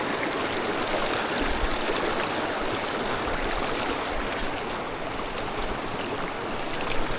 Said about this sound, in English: Water's really running fast.